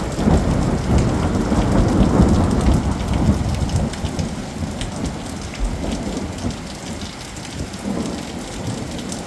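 A heavy, steady downpour roars close and loud throughout, dense rain hammering surfaces with low rumbling thunder rolling underneath, no voices present.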